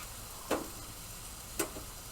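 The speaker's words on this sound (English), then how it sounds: "I'm gonna let this beef cook a little bit" Beef sizzles on a Blackstone griddle with a quiet, steady frying hiss, broken by two brief, sharper crackles from tools or spatters.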